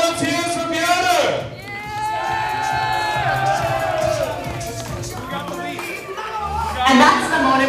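Crowd cheering and shouting fill a dance-off contest event in Poland, loud and continuous with swells near the start and end, mixed with a voice over it and scattered clapping.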